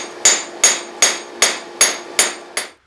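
Seven sharp, ringing hammer blows strike a cast steel Doyle anvil while a spike knife is forged, evenly spaced about every 0.4 seconds, loud and close, each with a bright metallic ring that decays before the next, then silence.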